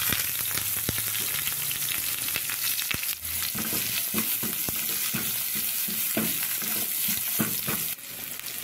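Onion and garlic fry in a hot pan, giving a steady close sizzle throughout, with stirring scrapes and a brief clatter partway in.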